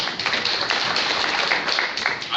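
Audience at a Texas attorney general debate in Tyler claps in a dense, even wash of many hands, with no speech over it.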